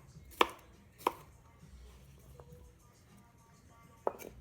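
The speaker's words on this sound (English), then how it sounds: "Again, just sort of roughly chop them." A knife roughly chops a yellow vegetable for a Greek salad, three sharp board knocks spread out and close to the listener, with quiet room sound between the cuts.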